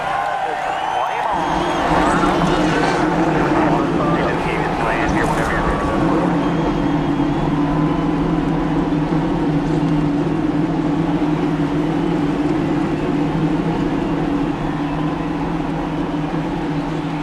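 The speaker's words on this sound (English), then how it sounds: "33 engines roar to life here in Charlotte, North Carolina, as Kyle Larson will head the field." Thirty-three NASCAR Cup Series race car engines firing up at Charlotte, North Carolina, building into a dense sustained roar that holds steady and loud under a busy crowd wash.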